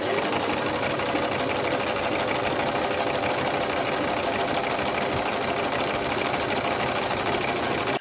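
A sewing machine fitted with a groove pintuck presser foot stitches pintucks in one continuous, steady, close mechanical whir with a rapid rhythmic needle beat, running unbroken until it stops abruptly at the end.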